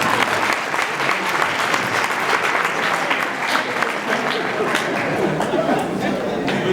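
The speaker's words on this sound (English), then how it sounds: "A round of applause." An audience applauds at a mathematics summit: steady, dense clapping from a sizeable crowd for several seconds, fairly close, with some chatter mixed in.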